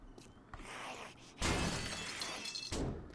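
Glass breaking in the survival game 7 Days to Die: bursts of loud shattering crashes, with a first smash followed by two heavier sprays of tinkling shards that fade between impacts.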